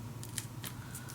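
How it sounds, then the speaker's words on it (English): Short snips of scissors cutting paper for a scrapbooking craft project, a few quick crisp cuts close by, fairly quiet. "to cut along here, or I can cut it out, of course, and glue it on this blue one"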